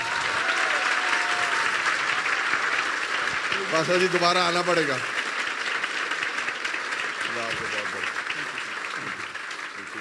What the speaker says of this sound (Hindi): आपकी तालियां बताएंगी।